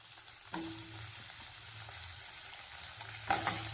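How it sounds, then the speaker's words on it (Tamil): Tomatoes sautéed with garlic in a pan, a steady close sizzle with soft stirring scrapes and a louder burst of frying near the end, no voices. "இப்போ இதில் நான் தக்காளி வந்து சேர்த்துக்கிறேன்"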